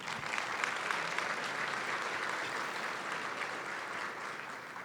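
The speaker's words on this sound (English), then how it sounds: "let's give them a big round of applause today." Applause at a county State of Education event: steady, dense clapping from a large audience, heard from a distance at moderate-to-faint level, unbroken by talk.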